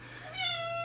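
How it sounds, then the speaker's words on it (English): A single drawn-out cat meow, fairly quiet and slightly distant, rising then holding its pitch. "you can hear my cat meowing in the background."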